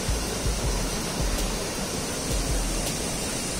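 Crystal clear stream water flowing through forest near Mawryngkhang rock in Meghalaya, a steady broadband rush close by with no talk.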